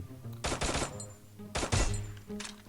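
Sniper rifle gunshots in a first-person shooter video game, with two loud close bursts of firing separated by a short gap and a fainter shot trailing at the end.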